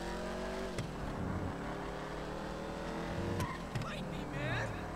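A Coquette Classic in Grand Theft Auto 5 runs with a steady engine drone and rising revs, with a brief tire squeal, under ongoing talk from players.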